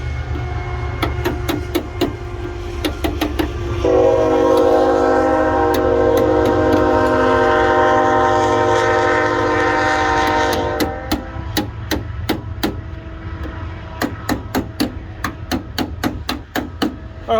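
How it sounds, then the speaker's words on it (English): A train rumbles past nearby with a steady low roar and repeated rhythmic clacks, while its horn blasts loudly in a sustained chord for several seconds in the middle before the rolling cars continue alone. "I hope all you people came to this video so that you can get your daily dosage of train horns."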